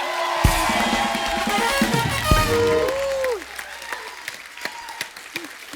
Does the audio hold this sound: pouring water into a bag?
no